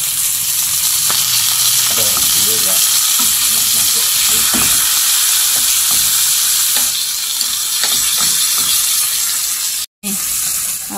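Food fries in a pan with a loud, constant sizzle and crackle, and stirring scrapes and knocks are scattered through it. A brief dropout comes near the end.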